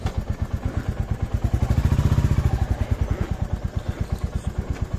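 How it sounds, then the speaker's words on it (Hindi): A Royal Enfield motorcycle engine runs close by with a steady, rapid thumping beat that swells briefly as it revs, then settles back to an even idle. "स्टार्ट करते हैं अपनी फेवरेट बाइक को"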